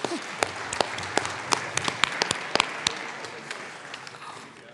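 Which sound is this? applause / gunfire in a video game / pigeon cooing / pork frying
applause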